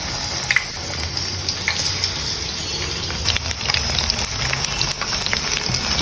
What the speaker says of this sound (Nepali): पकौडा बनाए जस्तै गरेर हल्का फ्राई गर्ने यसलाई चाहिँ नि अब म तेलमा फ्राई गर्दैछु।